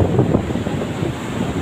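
Strong ocean waves at a beach in the morning, a rough roar of surf mixed with gusty wind buffeting the microphone, loud and steady with no speech.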